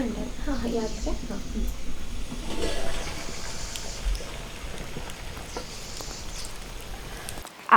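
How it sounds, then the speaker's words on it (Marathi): Heavy monsoon rain in a Konkan village, a steady wash of falling rain throughout with a faint voice over it, ending in a brief sharp knock. "दमदार पाऊस पडतोय"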